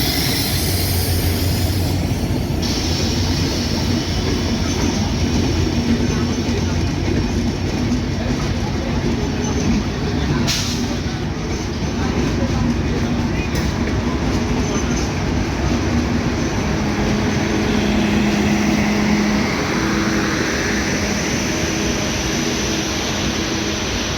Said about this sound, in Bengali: ঢাকা থেকে ছেড়ে আসা রাজশাহীগামী 769 আপ ধূমকেতু এক্সপ্রেস এই মুহূর্তে চাটমোহর রেলওয়ে স্টেশনের 2 নম্বর